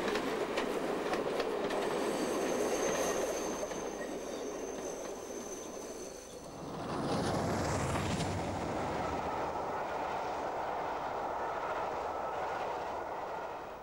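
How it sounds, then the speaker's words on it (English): A diesel train rumbles past close by on the seafront at Teignmouth, South Devon, engine droning and wheels rolling steadily, with a brief squeal and a horn-like tone mid-passage. "And here's a diesel on the seafront at Tynmouth in South Devon"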